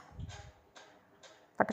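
Three soft crisp snaps of vegetable stems breaking, spaced about half a second apart, followed by a louder sharper crack near the end, close by with no talking.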